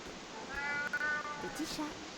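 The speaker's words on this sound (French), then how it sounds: "Ah, petit chat." A thin, skinny cat meows in the video game Alice Madness Returns, a couple of drawn-out plaintive cries over game ambience, with someone speaking softly nearby.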